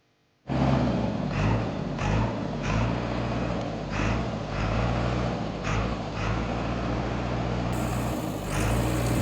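A second-hand 2013 JCB backhoe diesel engine starts and settles into a steady, close, rumbling idle with a low throb and slight rises in revs, and no talking.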